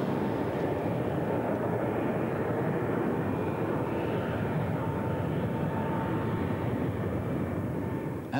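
Steady, loud roar of a BAC One-Eleven jet airliner's engines and airflow during a maximum-rate descent, an unbroken wash of noise heard from inside the aircraft throughout.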